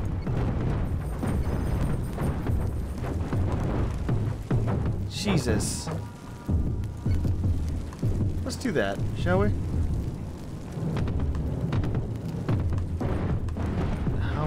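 Broadside cannons fire during a space battle in the game Cosmoteer, a dense, continuous rumble of booming impacts, loud and close throughout, while someone talks briefly over the barrage.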